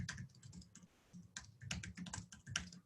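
Typing on a computer keyboard, entering an address into a system: quiet, irregular bursts of key clicks with brief pauses, close and alone.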